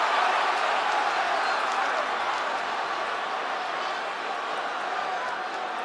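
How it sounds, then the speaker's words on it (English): A fight crowd at a mixed martial arts bout roars and claps in a dense, continuous wash of cheering and applause that holds steady throughout. "Poirier, crowd loving all of that."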